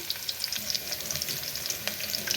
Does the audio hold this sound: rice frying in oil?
yes